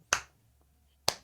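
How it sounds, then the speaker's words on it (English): Two sharp, isolated claps sound about a second apart, crisp and close, in a deliberate slow clap. "That's Ray doing his slow clap."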